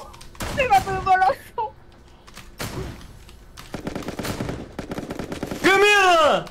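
Rapid gunfire bursts from the multiplayer party video game Pummel Party crackle in clusters, with excited players shouting over the shots throughout.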